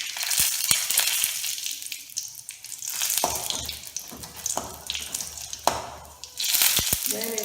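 Red chili hitting hot oil with cumin seeds in a pan for toor dal fry, giving a steady crackling sizzle punctuated by sharp clicks and clinks of utensils, with water-like hissing bursts throughout.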